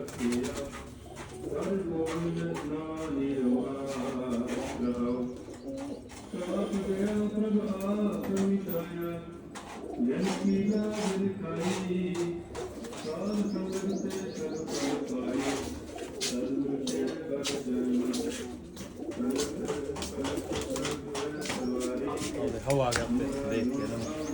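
Pigeons coo over and over, low throaty calls overlapping nearly nonstop, close by and fairly loud.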